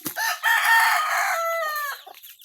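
A single rooster of the Talisayin gamecock type crows nearby, one long, loud, strained call that rises and then trails off, heard on its own.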